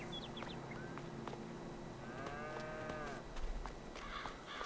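Cows in the farming video game Farming Simulator 22 moo several times in drawn-out, wavering calls over a steady outdoor farm ambience, with faint bird chirps scattered through.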